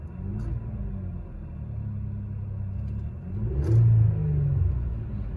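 A Chevy Colorado ZR2 with its stock intake runs at a steady, low, rumbling idle nearby, then swells briefly into a short rev before settling back down, with no one talking.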